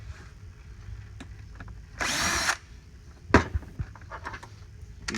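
Power drill backing screws out of a CycloMop, one short loud whir lasting under a second, then a sharp clack and softer handling clicks over a low steady hum.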